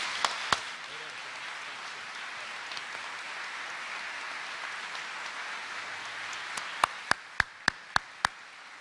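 An audience at a business hall of fame induction ceremony applauds inductees with a sustained wash of clapping that fades into a few loud, separate claps at the end.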